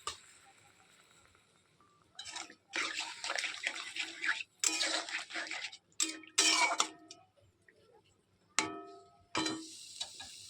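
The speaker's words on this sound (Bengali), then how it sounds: "জল দিই। অল্প জল দেবো।" Water is poured into a pan of spiced masala for a Bengali amudi fish curry, arriving in several separate splashing bursts with quiet pauses between them and no talk.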